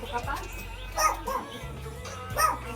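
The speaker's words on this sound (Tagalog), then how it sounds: "dami niyang aso" Pet dogs give a few separate barks and yips about a second apart, mixed with people talking nearby.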